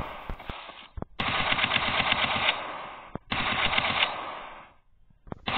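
Automatic rifle fire in the mobile battle royale game PUBG Mobile Lite, with long sustained bursts of rapid shots separated by brief pauses, loud and close with no talking.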